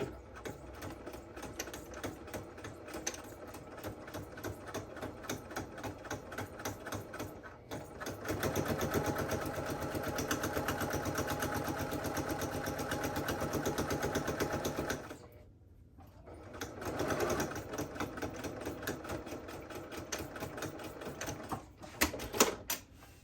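A sewing machine stitching the side seam of a drawstring bag, running in a fast steady chatter for long stretches, pausing briefly around the middle, then resuming and ending with a few short bursts.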